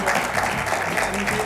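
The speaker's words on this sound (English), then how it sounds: "a big round of applause" A studio audience at a live morning show claps in a brief, steady wash of applause, with some crowd murmur mixed in.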